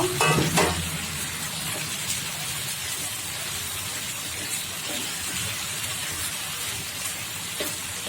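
Boiled beef liver stir-fried into a spice masala in a pan, a steady close sizzle and hiss with occasional scraping stirs throughout.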